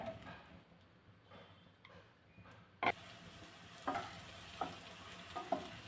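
Eggplant (brinjal) pieces dropped into hot oil for a yogurt curry set off a sudden sizzle that settles into steady frying crackle, with a few stirring clinks and taps over it.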